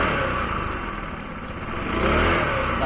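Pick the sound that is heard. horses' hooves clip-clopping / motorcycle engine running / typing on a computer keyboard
motorcycle engine running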